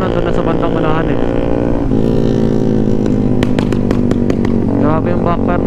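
A motorcycle engine on a group ride, a steady loud drone with revving and a rapid run of sharp popping bangs from the exhaust in the middle, with someone talking over it at times.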